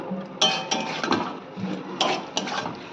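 Boneless chicken thigh pieces for chicken chaap are stirred in a pan, with a metal spoon clinking and scraping against the pan in irregular knocks over a soft background sizzle.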